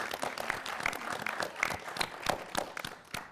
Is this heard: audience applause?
yes